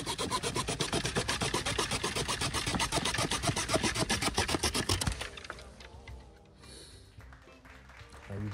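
A Leatherman or Victorinox multitool saw cuts through wood in quick, rhythmic back-and-forth strokes, loud and close for about five seconds before stopping, followed by quieter handling.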